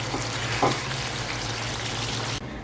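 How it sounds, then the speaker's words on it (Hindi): Marinated chicken frying in oil in a pan, a steady dense sizzle with a low hum underneath and one brief clatter, cutting off abruptly near the end. "अब जो हमने चिकन मैरिनेट किया था इसको मैं यहाँ पे फ्राई कर लूँगी।"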